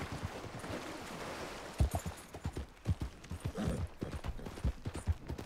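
Horse hooves clip-clop in Red Dead Redemption, a steady series of sharp thuds at walking-to-trotting pace over a soft outdoor ambience, fairly close and clear with no talk.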